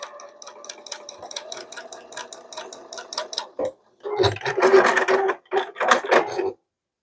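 A sewing machine stitching a quilt block runs in a steady rapid mechanical patter, pauses briefly, then resumes in two louder close bursts before stopping.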